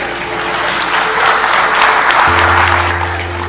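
An audience claps loudly and continuously in a hall, a dense, sustained wash of applause close by, with a low tone entering partway through.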